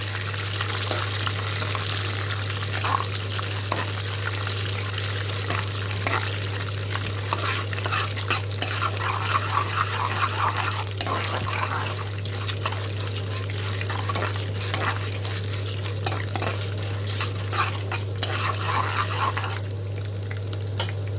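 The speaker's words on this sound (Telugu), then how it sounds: "కొంచెం గోల్డెన్ బ్రౌన్ కలర్ వచ్చేదాకా వేయించుకోవాలి." Food fries in a pan until golden brown, a continuous sizzle with frequent stirring scrapes and a steady low hum underneath, close and moderately loud, with no talking.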